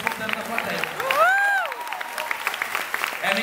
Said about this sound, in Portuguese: Pelo menos eu ganhei um aplauso escutando da plateia